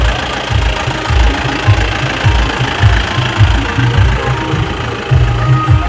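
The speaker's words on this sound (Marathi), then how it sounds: "चला आता आमचा टेम्पो निघालाय घरी जायला" The engine of a tempo goods vehicle runs loudly and close by as it pulls away, with a rough, uneven low throb that thumps in repeated pulses without any talking.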